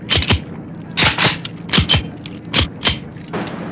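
Sharp gunshots crack out in a Tagalog action movie shootout, about seven close, loud reports in uneven bursts with short gaps between them and no voices.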